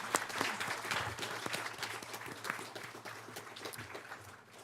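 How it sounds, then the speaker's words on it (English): Audience applause at a San Bernardino County meeting, a fairly quiet, steady patter of many hands clapping that tapers off toward the end. "If we can give them a round of applause"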